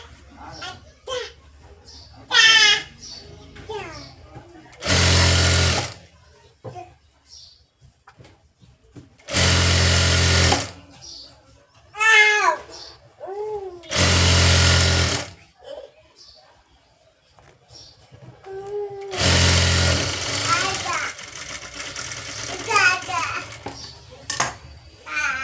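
A sewing machine stitches a lined blouse in short, loud bursts that start and stop, with children's voices and chatter between the runs.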